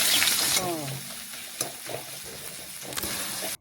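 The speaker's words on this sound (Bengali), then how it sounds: "পেঁয়াজটা লাল লাল ভেজে নিয়েছি" Chopped onion frying in white oil for a cauliflower and fish dish, a steady close sizzle with occasional utensil taps and stirring, ending abruptly.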